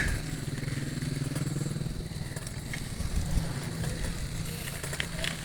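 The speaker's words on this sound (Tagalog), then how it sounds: "Medyo marami ng motor dito." Steady motorcycle engine drone with passing rumbles on a busy highway, motorcycles buzzing by close and fairly loud, with occasional crackle and wind noise.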